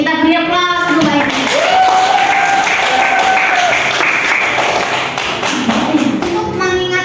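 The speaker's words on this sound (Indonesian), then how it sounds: "Kita beri aplaus dulu baik" A classroom group applauds during a chemistry lesson on functional groups, with steady clapping running the full length and children's voices calling out over it.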